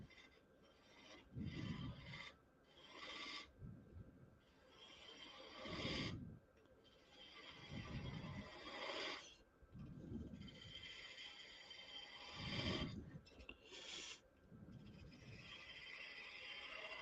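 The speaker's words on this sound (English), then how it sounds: "now I'm going to start forming a bead at the bottom of this." A woodturning gouge cuts a bead on a spinning wooden workpiece, producing a soft, repeated rasping scrape in rhythmic passes about every two seconds, close but quiet.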